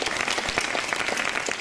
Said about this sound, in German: nochmal einen Applaus